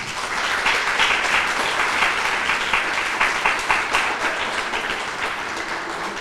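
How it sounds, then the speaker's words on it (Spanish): A lecture audience at an academic conference in Michoacán gives a speaker steady, full applause. Many hands clap continuously at an even loudness for the whole stretch, with no talking over it. "pues un aplauso para Paulina"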